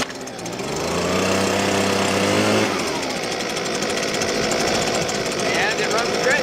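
A Husqvarna 125B handheld leaf blower engine revs loudly after starting, then settles into a steady, close, continuous two-stroke drone.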